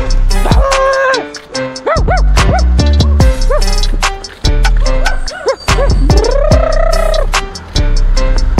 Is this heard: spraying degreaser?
no